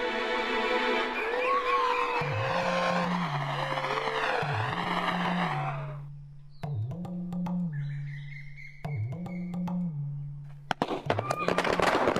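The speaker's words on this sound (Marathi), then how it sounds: "कशाला कशाला फटाके वाजवत आहे रस्त्यावर?" A few sharp firecracker pops and crackles burst out on a street, most densely near the end, between stretches of warbling, whistling tones.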